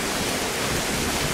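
An artificial waterfall at a scenic viewpoint on Tenerife, part of a fountain complex, gives off a steady, close, broadband rush of falling water with no break.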